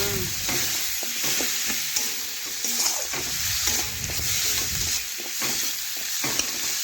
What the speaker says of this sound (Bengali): ভালোভাবে নাড়াচাড়া করে মশলা একটু মিশিয়ে নিচ্ছি।